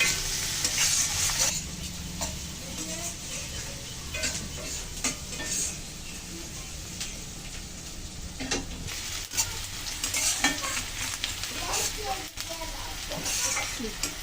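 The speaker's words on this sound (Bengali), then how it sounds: "পেঁয়াজগুলো আমি বাদামি করে ভেজে নেব" Onions with turmeric fry in a pan, a steady close sizzle running throughout with scattered scrapes and clinks of a stirring utensil against the pan.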